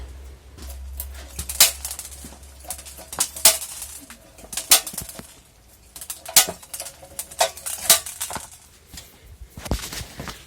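A homemade hand-pushed seed drill rolling over garden soil while sowing wheat, making a string of light irregular clicks and rattles over a low hum, with no voices.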